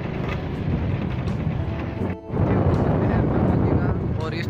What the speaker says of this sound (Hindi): अभी हम चल रहे हैं बाइक पर